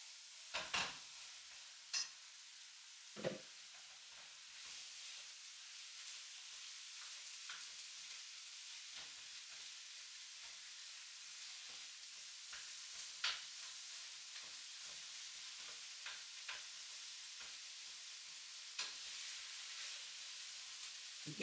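Minced beef with paprika and other spices sizzles steadily in a pan for quick burritos, quiet and continuous, broken by scattered scraping stirs and a few sharper knocks of the utensil.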